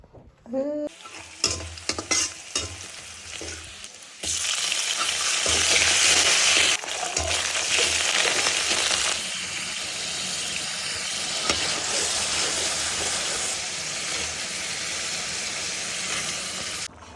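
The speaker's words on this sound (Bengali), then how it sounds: "ডালটা রাত্রে ভিজে রেখেছিলাম, সেই ভিজানো রাখা ডালটা রান্না করতেছে" Soaked lentils (dal) fry and stir in a pan with a steady, loud sizzle. Scraping and stirring strokes come first, then a dense hiss holds for most of the stretch, with no voices.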